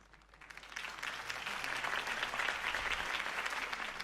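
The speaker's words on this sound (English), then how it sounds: "could have heard that applause" Crowd applause swells and holds steady in Batman: The Telltale Series after Harvey Dent's campaign speech for mayor, a dense, continuous clapping from many people with no speech over it.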